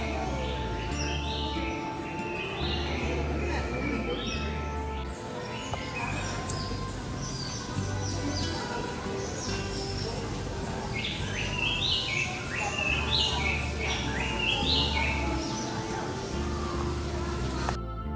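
Birds chirp and tweet inside the Detroit Zoo birdhouse, scattered bright calls repeating over a low, busy indoor hum, with occasional voices in the background.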